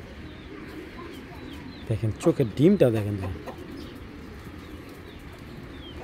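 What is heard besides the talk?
pigeons cooing and flapping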